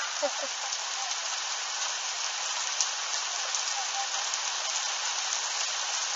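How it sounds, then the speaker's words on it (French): Heavy thunderstorm rain in Tour-en-Sologne, France, pours down in a dense, steady hiss that does not let up, with a few faint drips or voices underneath. "Oh là là, la pluie de malade."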